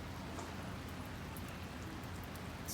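Steady rain falling in Mirbat, a faint, even hiss of drops on surfaces throughout, with no voices.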